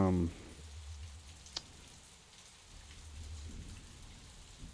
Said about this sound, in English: so that's why the rain seems extra loud